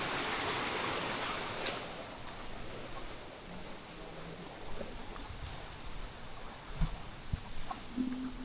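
A clear river flows beside a forest trail at Three Falls (Marilag Falls) Eco Park in Laurel, Santa Maria, Laguna, giving a steady broadband rush with occasional soft knocks and footsteps close by.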